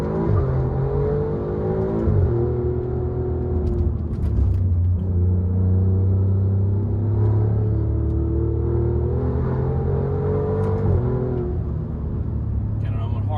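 Alfa Romeo Giulia QV accelerating hard on a hilly road, its engine drone rising in pitch across several gear pulls with a steady loud rumble, while someone talks over it.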